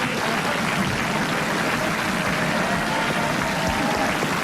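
A dense, steady wash of applause fills a French radio talk show studio audience, continuous and loud throughout with no voices standing out.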